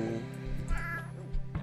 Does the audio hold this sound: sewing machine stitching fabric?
no